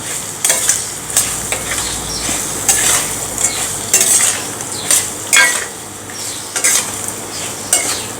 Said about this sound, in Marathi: आता आपण हे व्यवस्थित मिक्स करून घेऊया